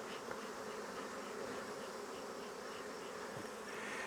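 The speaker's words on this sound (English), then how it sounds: "I don't know how many bees we have here." Honey bees buzz densely around hive nucs, a continuous soft swarm hum with individual bees droning close by, with no voices.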